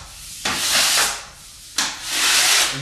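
Two broad sweeping strokes of a paper hanger's smoother pressed across fresh wallpaper, each a loud brushing rasp lasting about a second, close up and without talk.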